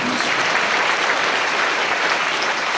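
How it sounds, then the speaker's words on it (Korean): A church congregation claps together in a sustained burst of applause, a dense, even roar of many hands filling the room for a few seconds. "박수를 하세요"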